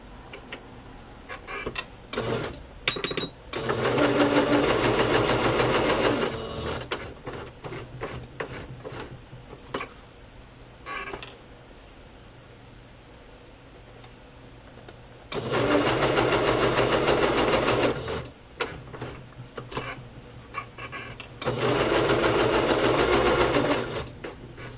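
Sewing machine stitching vintage fabric in three loud sustained runs, separated by quieter pauses filled with rustling and handling of the cloth.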